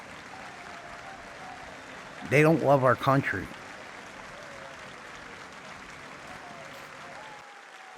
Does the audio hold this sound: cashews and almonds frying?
no